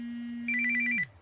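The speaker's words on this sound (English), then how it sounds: "Somebody phone ringing." A phone rings on a call, a quick electronic trilling burst over a steady low tone that then drops away, faint and brief, with no talking over it.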